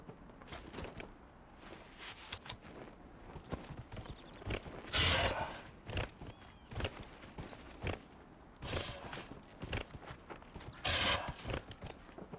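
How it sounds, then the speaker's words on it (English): A horse's hooves clip-clop steadily in Dragon Age Inquisition, a rhythmic run of close hoofbeats with a few louder swells of movement and creaking, no talking. "let's try the horse."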